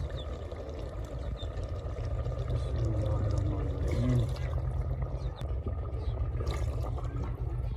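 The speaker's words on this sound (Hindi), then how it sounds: "ये वाली 4 कौलियाँ मैं पानी की शामिल करने लगा हूँ।" Water is poured into a pot of beef and potato shorba, a steady liquid pour running for several seconds close by, swelling slightly midway over a low background hum.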